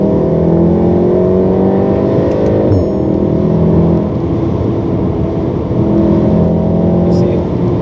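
A Volkswagen Golf R MK7 hot hatch with a dual-clutch gearbox accelerates hard in fourth gear, its engine rising in a smooth climbing drone inside the cabin, with a brief dip near the middle and a voice talking over it.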